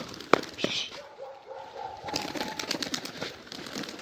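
Pigeons kept under a net enclosure in an Azerbaijani pigeon keeper's yard call and stir nearby, with a sharp early knock and scattered flutters and coos over a steady background, and no talking.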